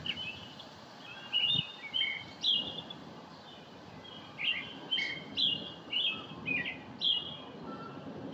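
Several birds chirp and call outdoors in southwest Ohio as a line of severe storms builds, bright repeated song phrases rising over a steady low background rumble, the calls coming in short bursts throughout.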